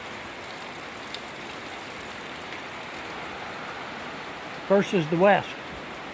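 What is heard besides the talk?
heavy rain falling in Idaho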